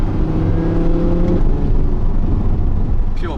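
Naturally aspirated V10 of an Audi R8 V10 Plus supercar revving loud and close, a steady sustained engine note with a held harmonic tone early on, then settling into a rougher drone.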